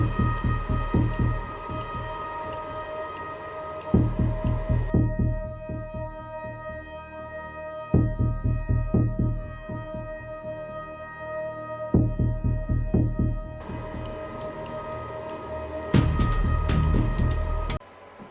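Ender 5 Plus 3D printer running a Benchy print: steady motor hum with repeated rhythmic bursts of stepper buzzing and short pulsing moves, close and fairly loud, with brief quieter pauses between passes.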